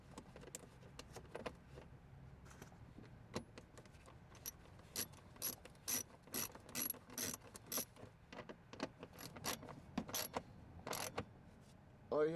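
Plastic fastener being turned and snapped into a Chevy Equinox headlight cover, a quiet series of irregular clicking, ratcheting ticks and small rattles up close, with no speech.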